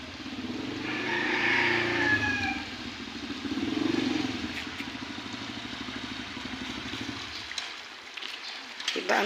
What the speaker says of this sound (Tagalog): Tingnan nyo yung motor ni Lusong yan sa baha.